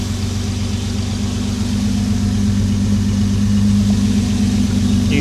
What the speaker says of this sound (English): it's never been like this smooth at idle